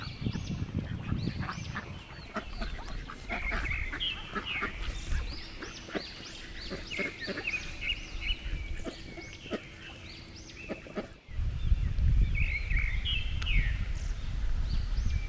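Ducks gathered at a small duck house on the grounds of Häringe Castle in Sweden, with repeated honking and quacking calls, fairly close, over steady outdoor background noise.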